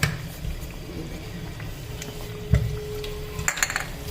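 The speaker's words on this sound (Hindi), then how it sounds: "ये देखिए थोड़ा सा मैं चला रही हूँ इसको" A pot of nargisi kofta curry, egg-stuffed meatballs in gravy, is stirred with a spoon, giving soft clinks and a sharper knock against the pot, while a quiet kitchen hum sits underneath.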